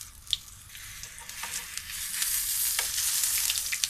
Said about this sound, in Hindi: हम थोड़ा थोड़ा तेल इसमें डालती जा रही हूँ। हमने बैगन यहाँ पका लेने हैं